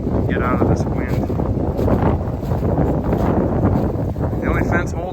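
Strong winter wind buffets a microphone outdoors on a farm where sheep and goats are kept, giving a loud, continuous rumbling roar with gusty swells throughout, and a voice speaks over it.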